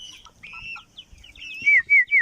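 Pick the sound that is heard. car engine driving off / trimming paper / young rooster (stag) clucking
young rooster (stag) clucking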